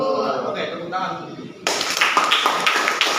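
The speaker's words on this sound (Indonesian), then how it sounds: "Oke, tepuk tangan." A classroom of students bursts into loud, dense clapping after a teacher's brief spoken prompt, the applause continuing steadily to the end.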